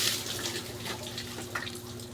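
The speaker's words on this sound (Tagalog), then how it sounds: "Ligo si Boy Takaw" Water running steadily from a tap during a child's bath, a continuous close splashing hiss with no talk.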